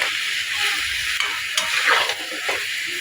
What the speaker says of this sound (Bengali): খুব সুন্দর করে কষিয়ে নেব